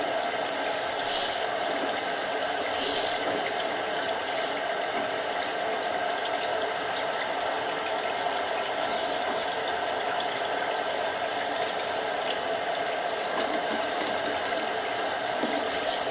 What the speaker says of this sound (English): I'll be turning on some water up above at the stack, most likely at the kitchen